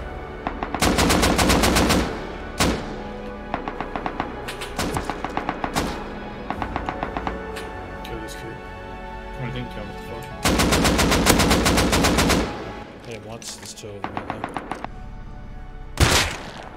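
Rapid automatic gunfire in the survival video game Rust, with long loud bursts separated by sharp single shots and short volleys, close and punchy throughout.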